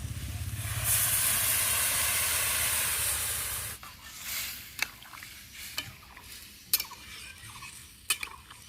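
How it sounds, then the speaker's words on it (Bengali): Water poured into a hot pan of vegetarian jackfruit seed curry, setting off a loud steaming hiss that lasts a few seconds and then gives way to quieter stirring scrapes and clinks. "এবার জল দিয়ে দেবো"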